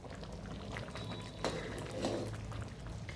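A vegetable curry simmers in a pan, with a soft steady bubbling and a few brief liquid splashes, fairly quiet and with no talking.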